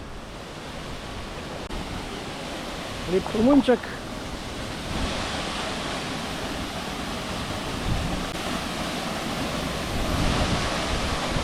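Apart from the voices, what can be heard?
double waterfall in the Azores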